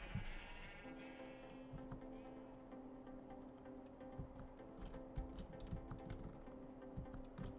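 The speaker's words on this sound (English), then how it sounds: "I did not realize how many sheep I had crammed in here." Minecraft sheep packed into a pen bleat repeatedly in wavering, overlapping calls over a faint clicking background. The sound is quiet and fairly close, with no speech.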